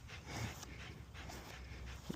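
A dog pants in quick, rhythmic breaths with soft whimpers while playing tug in a park, faint and close.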